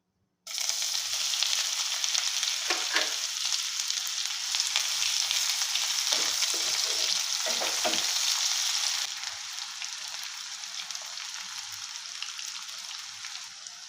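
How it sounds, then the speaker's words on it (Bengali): Bay leaf, a whole dried red chilli and chopped onion fry in hot oil in a pan, a steady loud sizzle throughout with a few stirring scrapes midway, easing slightly softer near the end. "ও তার সঙ্গে তেজপাতা হালকা একটু ভেজে দিয়ে দেব পেঁয়াজ কুচি"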